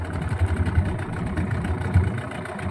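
A Yamaha 15 hp outboard motor with a low-rpm fault runs steadily at idle, a close, continuous low rumble with a faint rhythmic pulse and no voices.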